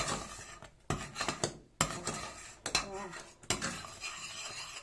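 A utensil scrapes and clinks around the inside of a hot metal pot in repeated strokes, close up, with no talking.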